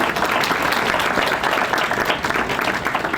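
Crowd at a city inaugural ball clapping for an honoree, steady dense applause throughout, close and fairly loud.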